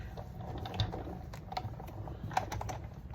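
A Big Shot die-cutting machine is cranked by hand, giving a soft run of mechanical clicks and ratcheting ticks with a few sharper knocks, close and moderately quiet, with no talking.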